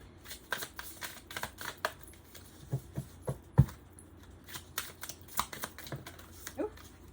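Soft, irregular papery clicks and flicks, like cards being shuffled and handled close by, fairly quiet with no speech.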